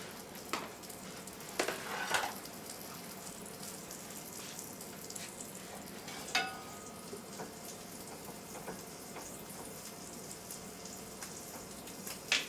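Food browning in a pan for a stuffed breakfast sandwich, a steady quiet sizzle and crackle running throughout, with a few louder clatters and splashy bursts of water or utensil noise near the start and middle.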